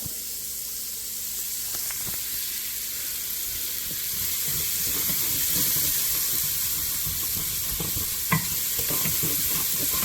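Onions with salt sautéing in a pan give a steady, close sizzle with scattered stirring scrapes and a couple of sharper clicks, no voices.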